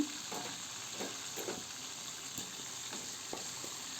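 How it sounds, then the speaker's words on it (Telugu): Tamarind paste frying in oil for a broad bean pickle, a steady close sizzle with occasional soft stirring scrapes and a constant high hiss throughout. "ఇప్పుడు 1 కప్పు మనం చింతపండు గుజ్జును వేసుకుందాం ఇదే ఆయిల్లోకి."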